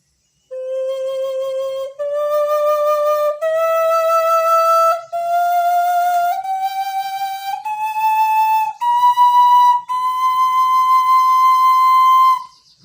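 A Minangkabau bansi, a traditional bamboo flute, plays a rising scale of clear sustained notes, each held about a second and a half with short breaks between, loud and alone with no talking.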